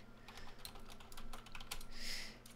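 Keys clack in quick bursts as a command is typed on a computer keyboard, a faint, close run of irregular taps with brief pauses over a low steady hum, no voices.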